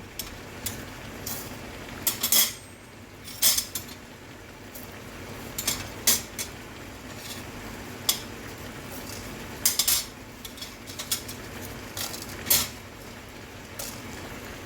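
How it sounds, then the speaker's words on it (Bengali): A spatula scrapes and clinks against a dry wok while coriander seeds, fenugreek, black pepper and dried red chillies are stirred over low heat; the irregular metallic taps and scrapes are spread out over a quiet background with no talking. "একটা শুকনো কড়াইতে সব কিছু মশলা দিয়ে হালকা গরম করে নেব।"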